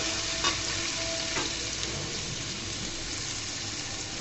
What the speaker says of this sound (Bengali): দেখো পেঁয়াজগুলোকে আমি হালকা করে ভেজে নিব।